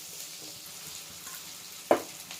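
Tomato fries in a pan with a steady soft sizzle, broken near the end by one sharp clatter as puffed rice is tipped in for puffed-rice upma.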